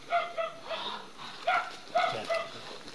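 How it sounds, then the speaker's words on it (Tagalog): Several dogs at a camp bark and yip in repeated bursts, fairly near and loud, with whining tones between the barks and no talking. "Sobrang dami ng mga aso."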